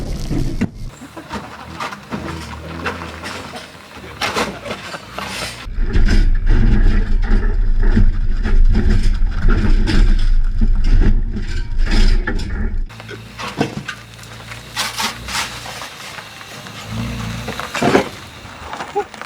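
Bosozoku-style Japanese custom car crashing and rumbling over rough road, a loud deep droning roar that dominates the middle stretch, framed by quieter cabin noise and sporadic sounds.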